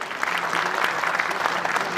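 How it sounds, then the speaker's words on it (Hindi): An audience at a college alumni reunion event claps loudly, a dense, sustained burst of applause that fills the whole moment without a break. "तो मैडम के लिए जोरदार तालियां।"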